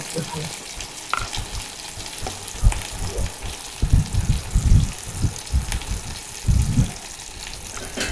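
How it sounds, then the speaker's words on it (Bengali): Spice paste of crushed green chilli, mustard and turmeric with tomato sautéing in a hot pan, a steady sizzle broken by bursts of stirring and scraping that swell and fade, with no talk. "মশলাটা দিয়ে একটু কষতে"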